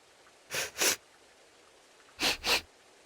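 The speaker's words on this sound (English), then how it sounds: "What are you two sniffing at?" Two video game characters in Tales of Berseria sniff twice each, two quick paired sniffs early and another pair later, close and clear against near silence.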